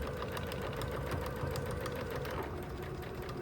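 Sewing machine back stitching through a messenger bag at a corner, a steady continuous mechanical whir with rapid needle chatter throughout, moderately loud and close with no talking.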